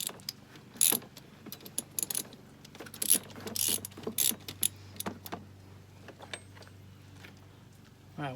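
Ratchet wrench with a 27mm socket breaking loose the 27mm nut on the oil filter canister of an R56 Mini Cooper S with the N14 engine, heard as scattered short clicking bursts and sharp ratcheting snaps, fairly quiet and close.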